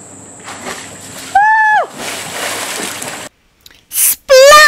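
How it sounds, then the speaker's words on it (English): A cartoon character jumps into a pool with a bright splash, set among short whistly tones and swooping electronic effects in a busy children's reading program soundtrack. "Splash!"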